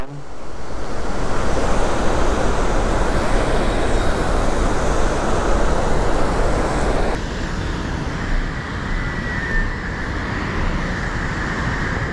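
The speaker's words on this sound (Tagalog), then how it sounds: "Pumapaw na yung tubig sa dam." Water overflowing a dam rushes in a continuous, loud roar close by, a steady broadband wash with wind buffeting the microphone.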